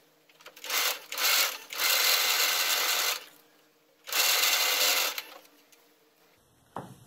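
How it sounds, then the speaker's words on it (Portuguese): A domestic sewing machine runs in bursts of fast, even stitching along a fabric edge, three long runs separated by pauses, close and loud, ending with a small click. "eu vou passar agora a costurinha bem nessa beiradinha aqui"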